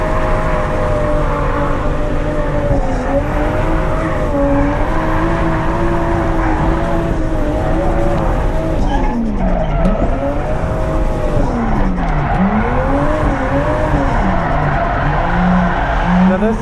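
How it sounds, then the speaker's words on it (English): A Toyota JZX100 Cresta drifts at Ebisu circuit. Its engine roars loudly and without a break as it rises and falls through the revs, while the tires squeal and skid the whole time, close by. "This is where you fry through all your tires."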